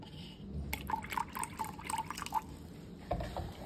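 Vinegar poured into red cabbage indicator liquid in a kitchen acid-base test: a brief, soft trickle and several light drips and splashes, faint and close, without talk.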